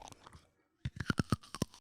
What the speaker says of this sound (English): Please don't crunch that into the mic.